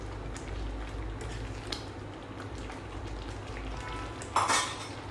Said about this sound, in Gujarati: પ્રોપરલી મિક્સ કરી લઈશું આપણે